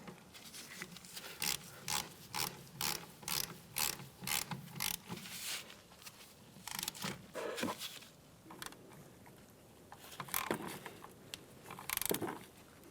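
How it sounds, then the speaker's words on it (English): Torque wrench ratcheting as it tightens caliper bolts on a Hyundai Elantra, heard as quiet, close, rapid mechanical clicks in a rhythmic run followed by a few more scattered bursts. "Now we can torque these down to 50 foot-pounds."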